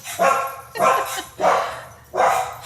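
Indoor dogs bark four times in a row, loud and close, each bark sharp with a short tail, spaced about half a second apart.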